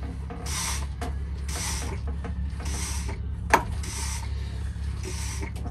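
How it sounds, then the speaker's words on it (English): A hand pump draws engine oil from a boat engine through the dipstick tube, making rhythmic rasping strokes about once per second, close and moderately loud over a steady low hum, with one sharp knock midway. "Okay, so we're all set up to pump the oil out."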